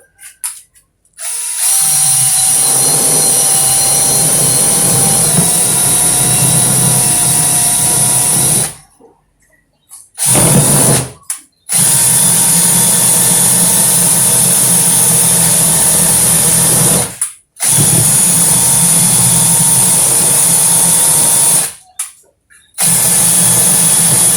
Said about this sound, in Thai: ใช้สว่านนะครับ ปั่น ปั่นให้มันเข้ากัน